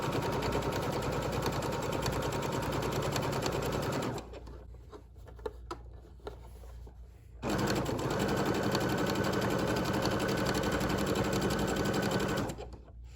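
Sewing machine stitching fabric for a child's apron: a loud, steady mechanical whir runs for about four seconds, stops briefly with small clicks, then runs again for several seconds before halting.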